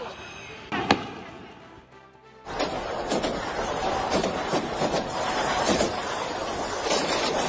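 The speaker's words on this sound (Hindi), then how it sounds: "आवाज सुनिए मिसाइल्स की, धमक सुनिए," Missiles launched toward Pakistan produce a series of heavy booms and sharp thuds, including one abrupt blast, followed by a continuous rumbling roar and scattered cracks, with a voice talking over them.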